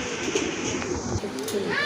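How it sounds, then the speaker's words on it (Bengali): Domestic pigeons at a loft cooing softly and intermittently amid general bird chatter, with background noise and some voices nearby. "মাশাল্লাহ আরেক জোড়া কবুতর খুবই সুন্দর এক জোড়া কবুতর"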